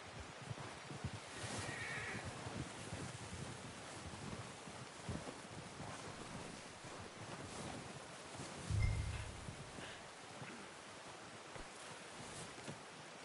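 Horse sounds from the game Red Dead Redemption 2: a steady ambient bed of wind and hoof movement, with a brief, louder snort or whinny near the middle of the clip.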